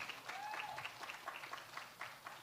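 An audience claps at a climate change youth ambassadors ceremony as a young woman comes on stage to collect a certificate. The soft, steady applause runs the whole time with a few sharper claps and faint cheers.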